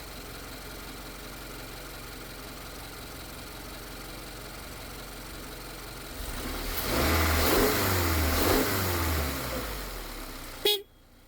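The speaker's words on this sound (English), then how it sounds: "I'm going to give it a couple of revs" A 2025 Subaru Forester engine idles steadily, then revs up loudly a few times in quick bursts before settling back, ending with a brief sharp noise.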